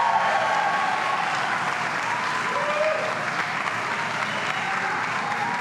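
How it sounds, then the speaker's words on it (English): A room full of people applauding a welfare federation CEO at a paid family leave event, a loud, sustained and even wave of clapping with no breaks. "Let's give her a round of applause."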